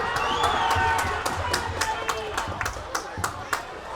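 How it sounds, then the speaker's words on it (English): Crowd noise at an 18U ice hockey game between Smoky Mtn Wild and Raleigh Raptors, with steady claps and cheers running under commentators talking throughout. "There's a lot of folks here cheering"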